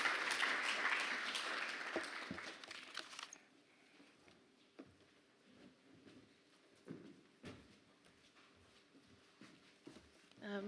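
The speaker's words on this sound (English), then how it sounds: "So again, a big round of applause for them" An audience at a health inequalities training day claps loudly for about three seconds, then the applause fades into a quiet room with scattered shuffles, knocks and faint murmurs.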